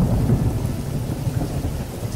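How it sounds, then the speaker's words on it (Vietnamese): Heavy rain pours in a dense, continuous roar with a low thunder rumble beneath it, steady and enveloping on a stormy night, with no voices. "Trong đêm mưa tầm tã"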